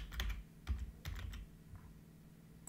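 Quiet, close clicks of a computer keyboard as Python code is typed, a few short bursts of keystrokes that thin out toward the end, with no talk.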